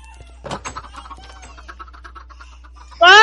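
A video-game chicken clucks in a quick, close series of short calls, and a sudden loud burst of noise cuts in right at the end.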